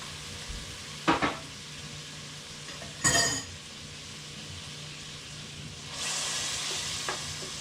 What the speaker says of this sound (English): I'm using my canned tomatoes this year. Dump that right in.